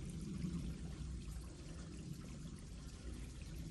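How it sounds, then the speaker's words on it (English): Spring water flowing and trickling into a pond and stream, a soft continuous pour with steady burbling, close and quiet with no voices. "even during droughts, this water has flowed."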